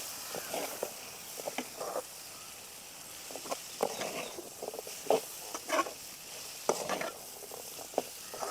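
A jackfruit seed mixture stirred in a hot pan, with a soft background sizzle broken by irregular scraping and tapping strokes of the spoon, up close.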